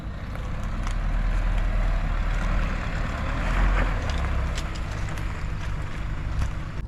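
Mahindra Scorpio-N engine pulling hard up a steep climb, a steady deep rumble with rising and falling surges, heard from inside the vehicle along with road and wind noise.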